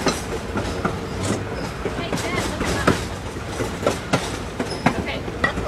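Osceola & St. Croix Valley Railroad cars roll along the rails with a continuous rumbling clatter and periodic wheel clicks, heard from on board with voices talking over the noise.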